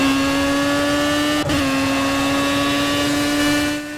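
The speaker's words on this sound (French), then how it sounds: "Allez, on passe les vitesses." Race car engine in a Formula-style racing game at Spa, holding a loud, steady high whine with a quick dip at an upshift before the pitch settles and keeps climbing.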